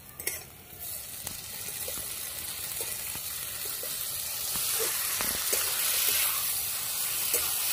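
Tomatoes mixed with green chilli, salt and turmeric hiss and sizzle in a hot pan for an egg-tomato dish, a steady frying crackle that swells slightly, broken by a few soft stirring clinks.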